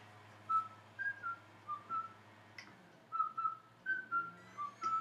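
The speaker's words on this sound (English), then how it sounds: "I'll just whistle the melody." Someone whistles a nursery rhyme melody solo, short clear tuneful phrases with brief pauses between them, close and quiet, with no other voices.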